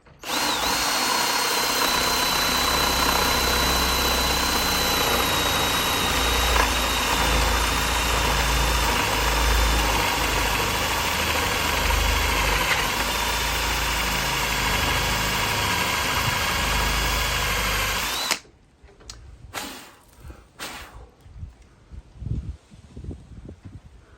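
A large drill with a big, coarse-toothed bit boring into a wooden chair, loud and continuous whine with a low grinding drone that cuts off abruptly near the end, followed by quieter scattered handling noises.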